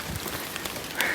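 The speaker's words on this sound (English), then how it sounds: "it started raining again" Light rain patters steadily nearby on a hiking trail on the GLT Eastern Section, a soft continuous hiss with scattered drops.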